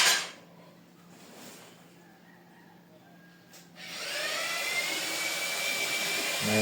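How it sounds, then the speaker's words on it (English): An electric trimmer starts up partway through while kitchen cabinets are fitted, giving a loud, steady high-pitched whine that continues to the end after a quiet stretch of faint room noise. "I'll then show you the type of trimmer we I use"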